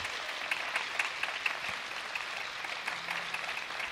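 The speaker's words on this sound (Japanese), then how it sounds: "大きな拍手です。" Crowd applause fills a table tennis gymnasium during a professional T.League match, a steady wash of many hands clapping at moderate distance with a few sharper claps standing out.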